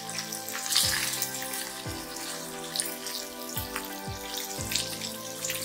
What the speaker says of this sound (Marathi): कढईत तेल तापलेलं आहे, पॅटीस घालूया।